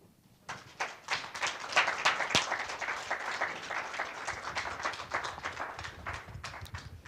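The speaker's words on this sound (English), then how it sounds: "let's give Professor Sandberg another round of applause" Audience applause for Professor Sandberg after a lecture at the University of Applied Sciences of Berlin: dense, sustained clapping from a full room that swells quickly, holds steady with scattered sharp claps, and fills the space without speech.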